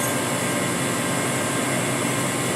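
A 2005 Mori Seiki NL 2500 lathe with a 1250mm bed, its spindle spinning at 1000 RPM, gives a steady, dense whirring hum that stays loud and even throughout.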